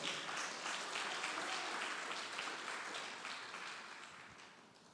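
Dense, steady applause from a church congregation fills the space, holding strong before tapering slightly toward the end.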